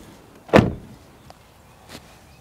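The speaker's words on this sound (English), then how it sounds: "And then I would shut the door" A car door swings shut with one loud, close thud, followed by a faint click a moment later in an otherwise quiet setting.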